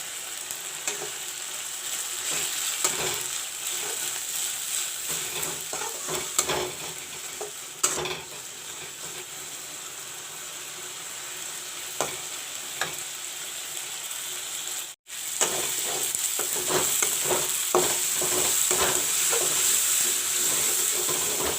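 Turmeric, chili powder and sabji masala fry in a pan for a green moong and channa curry, giving a steady close sizzle with repeated scraping stirs and a brief break near the end.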